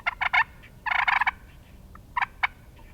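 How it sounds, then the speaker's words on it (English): Several short bursts of soft, rolling wild turkey purrs from a wooden box call, close up, separated by brief pauses, with no talking. "This would be my standard purr."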